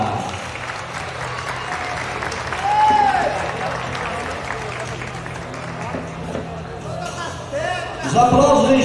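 Applause from an audience at a beauty pageant-style awards night as contestants are called, a crowd clapping under a public-address announcer's voice and background music, swelling near the end.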